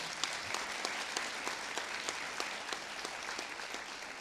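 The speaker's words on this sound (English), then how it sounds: "Let's give them a round of applause." An audience at a governor's tax fairness campaign event gives a round of applause, steady moderate clapping at a distance with distinct individual claps standing out.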